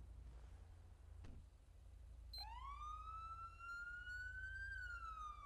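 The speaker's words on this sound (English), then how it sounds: "Obvious difference in the siren tone there." A video game emergency vehicle siren tone rises and holds a steady wail over a constant low electronic hum, fairly faint.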